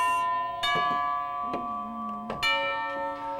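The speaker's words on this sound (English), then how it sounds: "We have a doorbell." An electronic doorbell chimes a short melody of several ringing tones with sustained, overlapping notes, heard fairly close in a quiet room.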